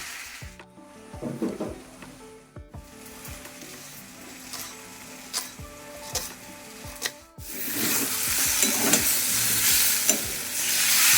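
Spice masala for eggs frying in a pan, with a soft continuous sizzle, scattered spatula scrapes and knocks against the pan, growing into a louder, denser hiss in the final seconds.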